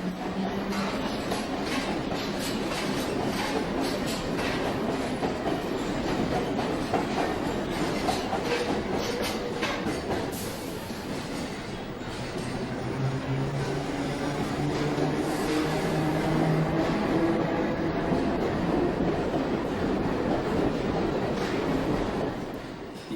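A London Underground A60 stock train running at Baker Street, a continuous loud rumble with rhythmic clickety-clack of wheels over rail joints and occasional squeal, sustained throughout with no talk.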